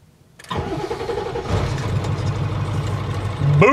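An OBS Ford F350 truck with a new starter, starter relay, alternator and two new batteries cranks after a moment of quiet, catches and settles into a loud, close idle that swells slightly at the end.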